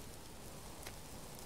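Rain falls in the survival game Subsistence near a shack, a steady, even hiss of drops that fills the whole stretch with no talk over it.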